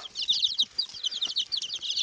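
Rapid high-pitched peeping from a small chick, repeated chirps in quick succession, close and fairly clear with no talking.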